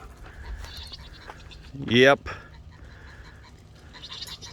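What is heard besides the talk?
goats bleating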